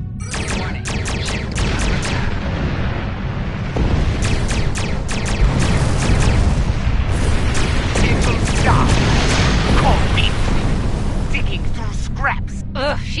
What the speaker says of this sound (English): Press the R2 button to fire energy weapons.